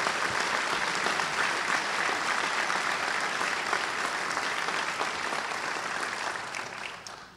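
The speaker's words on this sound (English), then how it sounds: "let's have another round of applause for the men and women of the Bergen County Prosecutor's Office" Sustained applause from a ceremony audience honoring the staff of the Bergen County Prosecutor's Office at an oath of office ceremony, a dense, steady wash of clapping that fades slightly at the end.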